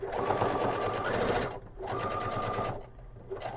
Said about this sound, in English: I'm gonna backstitch it very quick